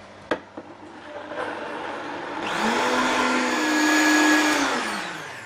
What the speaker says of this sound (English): So you put it on your blender.